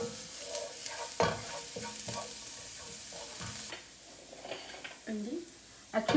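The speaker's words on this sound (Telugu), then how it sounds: "ఈ మిన్స్డ్ గార్లిక్ని దీంట్లో వేసేసుకుంటున్నాను. ఇలా మంచిగా సాటే వేసుకోవాలి" Minced garlic sizzles in a pan for a tofu stir fry, a steady close frying hiss with bursts of spatula stirring and scraping, while a voice talks over it.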